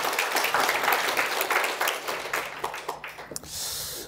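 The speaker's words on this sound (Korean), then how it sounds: "우리 하나님께 영광의 박수를 올려드리도록 하겠습니다" Congregation applauding during a church worship service, dense clapping for about three seconds that fades out, followed by a brief quieter stretch with a soft hiss.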